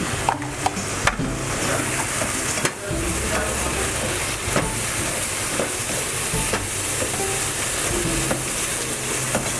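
Ground garam masala, turmeric and tomatoes fry in a pan while being stirred, making a loud continuous sizzle broken by repeated scraping knocks of the spoon against the pan, with no voices.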